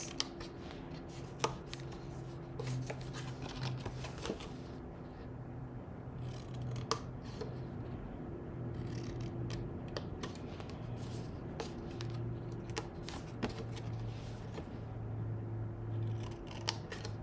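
Scissors angle cutting the corner tabs of a paper Easter box, a series of crisp close snips at irregular intervals over a low steady hum.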